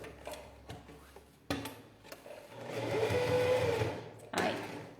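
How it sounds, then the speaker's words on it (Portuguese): Sewing machine stitching a toiletry bag, a steady mechanical whir that builds in the middle of the clip, with clicks and thumps of fabric handling around it, fairly quiet and close. "Vou continuar minha costura."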